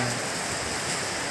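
Steady rain falling at a fishing spot in a village, a constant dense hiss of drops on surfaces, close and even throughout with no voices.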